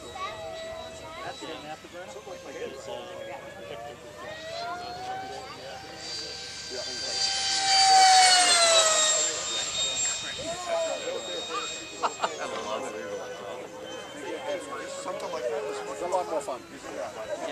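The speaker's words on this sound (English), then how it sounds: "Also an electric aircraft, ducted fan, twin engine, twin motor, and thrust vectoring" Electric twin-motor ducted-fan model aircraft with thrust vectoring flies past at an open house, a steady whine rising and swelling as it passes near, then fading, with people talking throughout.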